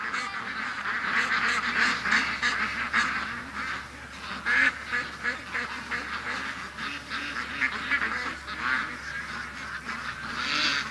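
A flock of ducks and geese quack and honk continuously at close range while a dog herds them, a busy overlapping chorus with no talking.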